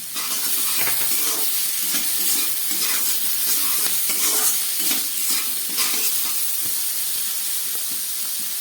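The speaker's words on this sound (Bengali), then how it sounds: "শিম আলুটা মশলা দিয়ে ভাজা হয়ে গেল।" Flat beans and potatoes frying with spices in a pan, with a dense, continuous hissing sizzle and scattered clicks and scrapes of stirring throughout, fairly close and loud.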